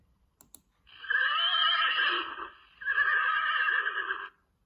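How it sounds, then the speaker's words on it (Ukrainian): A horse whinnies twice in a row, two long, loud, wavering neighs separated by a short pause, preceded by a couple of faint clicks. "А це кінь."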